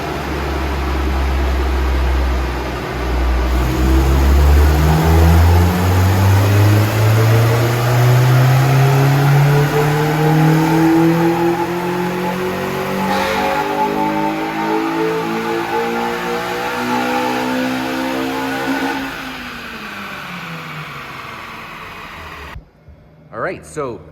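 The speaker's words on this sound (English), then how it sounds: "I did 2 dyno pulls with the open intake air box" A Honda K-series engine with an open intake air box revs hard on a dynamometer, its rising tone sweeping upward through the pull before dropping off; a roaring intake whoosh runs throughout, then the run ends abruptly with a few short knocks.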